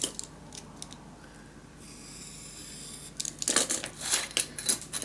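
Roller paper trimmer slicing a thin strip off paper for a Christmas mini album: a steady low sliding rasp, then a burst of sharp clicks and rattling as the blade carriage moves, close and moderately loud.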